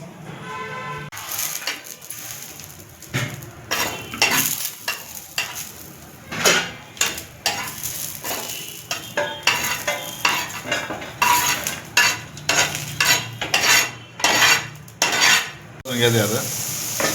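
Coconut roasting in a pan, a utensil repeatedly scraping and clinking against the metal in an irregular stirring rhythm, close and clear over a faint sizzle.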